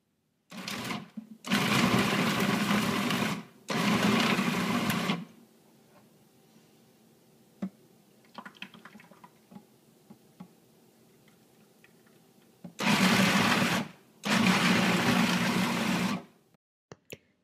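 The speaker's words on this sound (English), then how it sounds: "Feed your parsnips into the food processor." A food processor purées parsnips in loud, close whirring bursts: two short runs, a quiet pause with faint handling clicks, then two more runs.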